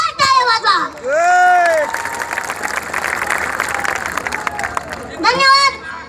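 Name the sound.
audience applause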